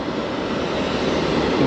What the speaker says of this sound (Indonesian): akhirnya kita bisa melihat pesawat landing dengan langsung